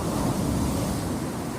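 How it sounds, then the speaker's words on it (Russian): Steady rushing wash of Mediterranean sea surf breaking on the Turkish shore in December, a continuous broad roar with a little wind noise, no voices. "сегодня вот такая достаточно шустрая волна. Видите, она и шумная"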